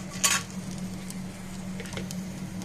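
Dried red chillies and black cumin seeds frying in oil, a short sharp sizzle burst early on, then a steady low crackle with occasional faint spatters and stirring clinks.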